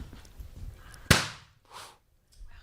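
One balloon bursts at a street balloon-popping event in Boston with a single sharp, loud crack that decays quickly, followed by brief quiet, faint movement and a little background noise.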